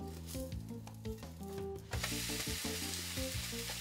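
An okonomiyaki pancake cooks uncovered in a pan over medium heat after being flipped. Background music plays throughout, and a loud broadband sizzle bursts in about halfway and continues under the music.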